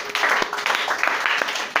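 Worshippers in a church clap together to acclaim the Lord during a service, a brief steady burst of applause mixed with voices and murmuring.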